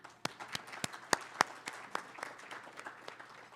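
Scattered applause from a conference audience, a moderate patter of many hands with a few louder nearby claps standing out, heard without talk.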